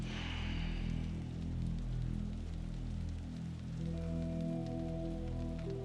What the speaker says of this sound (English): Taking in the rain.